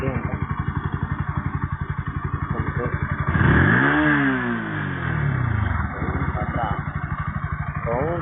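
Bajaj NS 160 motorcycle, about three months old, idling with a steady close thumping beat, then revved hard through a rising and falling surge before settling back to idle; a person talks over it.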